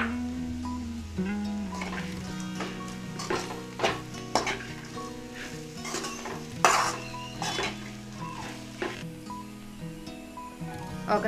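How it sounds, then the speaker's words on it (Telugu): Raw banana and moong dal fry being stirred in a pan after coriander leaves go in, with frequent metallic clinks and scrapes of a spoon over a soft sizzle and a steady low hum, close by, no voices. "కొత్తిమీర వేసుకొని ఒక 2 మినిట్స్ ఫ్రై చేసుకోవాలి"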